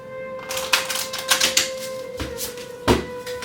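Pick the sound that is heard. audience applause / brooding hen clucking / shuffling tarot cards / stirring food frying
shuffling tarot cards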